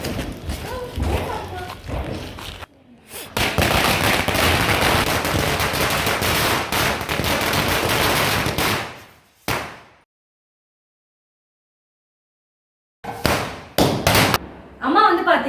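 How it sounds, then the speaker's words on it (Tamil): A 1000-wala string of firecrackers set off for a Diwali celebration: a loud, close, rapid-fire crackle of bursts running for about six seconds, with scattered thumps and pops before it and after a pause. "தலை தீபாவளி செலிப்ரேட் பண்ண என்னது 1000 வாலா தானே, அதை வந்து வெடிக்க போகிறோம்"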